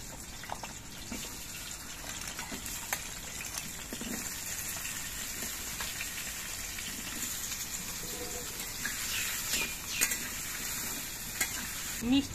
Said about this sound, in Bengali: এবার মিষ্টি কুমড়োগুলো ভেজে নিচ্ছি।